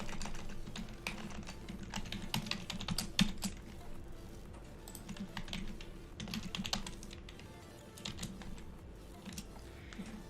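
Fast, uneven keystrokes clatter on a computer keyboard, quiet and close, with brief pauses between bursts of typing over a faint low hum.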